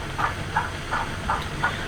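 A Rapido S160 OO gauge model locomotive with DCC sound running, giving a soft, even steam chuff about three times a second over a faint background hiss.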